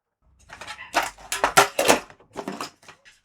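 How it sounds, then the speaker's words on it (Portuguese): Several dogs bark in rapid, overlapping bursts, fairly close and loud, with short pauses between volleys. "Os cachorros estão latindo enlouquecidos."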